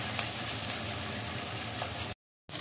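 Onions frying with a little sugar in a pan for biryani birista, a steady close sizzle that runs evenly and then breaks off for a short moment before carrying on.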